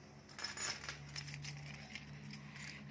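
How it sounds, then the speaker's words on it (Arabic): Metal keys jingle and clink as they are set back in place in a home, a few small bright clatters over several seconds, close but quiet. "رجع المفاتيح دي مكانها"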